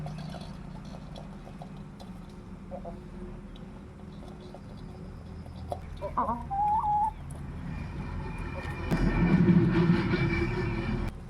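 A chicken clucks and calls in an outdoor setting with a steady background rumble, a louder low noise swelling near the end.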